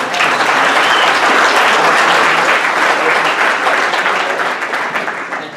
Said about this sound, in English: That definitely deserves applause.